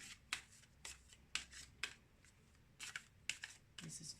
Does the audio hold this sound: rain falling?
no